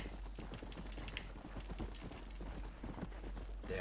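Horse hooves clip-clop in steady rhythm in the Red Dead Redemption game, continuous and moderately loud with no talk.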